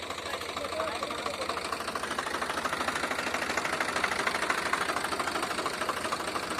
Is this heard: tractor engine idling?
yes